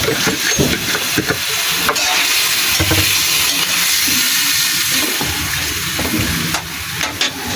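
Chicken adobo marinated in vinegar sizzles and hisses steadily in a frying pan, a dense, continuous fry with occasional stirring scrapes.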